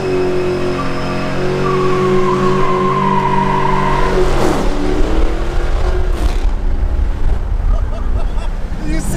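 A loud, close 2015 Dodge Challenger R/T engine revs hard, its roar rising and falling continuously, with a brief squealing sweep in the middle.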